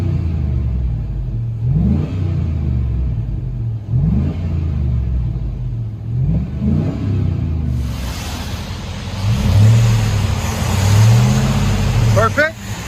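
A 2001 Chevy Tahoe with a 5.3L V8 and Flowmaster Flow FX exhaust, 3-inch pipe and 5-inch tip, revs in several deep, rumbling throttle blips, then a longer, louder rev up close, with voices around it.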